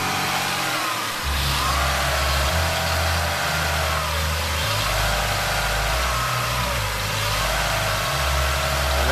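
A car engine runs and revs during a Seafoam treatment fed through the PCV valve, its steady low drone shifting pitch as the revs rise and fall, loud and close throughout.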